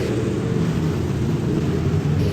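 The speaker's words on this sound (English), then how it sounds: "Now listen to mine." A sportsman late model race car engine heard from inside the car on track, a loud, steady, close-up low drone filling the whole moment without talk.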